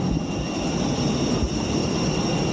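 Steady broadband engine roar at an airport boarding a plane from Manila to Vietnam, continuous and fairly loud with a low rumble, no talk over it.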